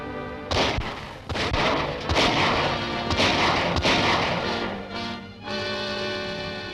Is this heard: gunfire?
yes